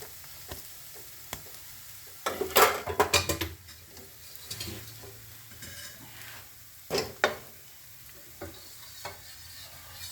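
A spoon stirs gram flour batter into a pot of Marwadi kadhi with bathua greens, giving short bursts of close scraping and clinking against the pot between quieter gaps, with no voices.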